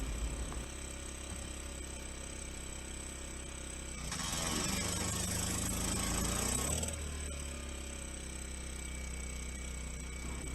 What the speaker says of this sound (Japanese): 発電機なんですが時々止まります